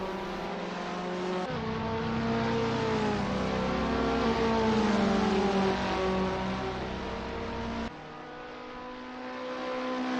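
KTM X-Bow race cars roar around the Vallelunga circuit, a loud sustained engine drone with shifting pitch as cars run side by side, one engine note dropping sharply near the end.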